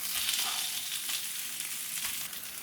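A prepared masala paste fries and is stirred in a pan for mint rice, making a dense, even hiss of steady sizzling at close range with no voices.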